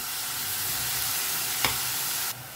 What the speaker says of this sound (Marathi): आतां घालता हांव कांदे, सो कांदे न्ही आमकां एक दोन मिनटांनी बरें फ्राय करून घेवंक जाय